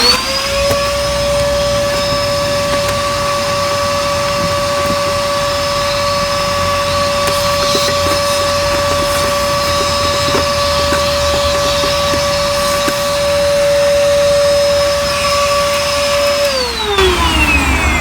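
A vacuum cleaner fitted with a dryer vent cleaning attachment runs steadily and loudly with a constant whine, then winds down at the end.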